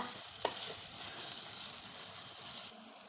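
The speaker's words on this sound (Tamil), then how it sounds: "நல்லா கிண்டி கொடுத்து வெங்காயம் நம்ம சேர்த்த பூண்டும் நல்லா வதக்கிக்கோங்க" Onion and garlic sauté in a pan for a tomato kulambu, a soft steady sizzle with a single sharp scrape of a stirring spoon near the start, fairly quiet and close.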